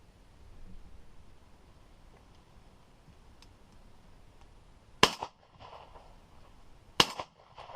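Two sharp shotgun reports about two seconds apart, fired at pigeons coming in over decoys on a bean field, each a loud outdoor crack with a short tail against a quiet rural background.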